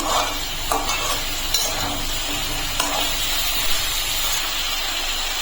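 Beans and vegetables frying for a chicken stew give a steady, loud, close sizzle that holds throughout, with faint clinks of stirring now and then.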